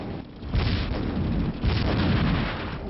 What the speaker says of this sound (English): Fire several shots onto the sector ground or at the structure to claim it.